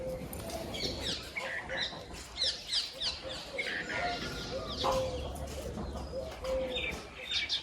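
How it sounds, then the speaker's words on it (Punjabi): Chickens cluck and other farmyard birds call around a rural Punjabi homestead, a busy, fairly close mix of short repeated clucks and chirps that runs steadily throughout over low background noise. "ਸਹਿਲ ਵੇਖ ਲੈ ਪੁੱਤ ਪੱਠਿਆਂ ਵੱਲ ਜਾਣ ਦੇ ਕਿ ਨਹੀਂ ਕੁੱਕੜ"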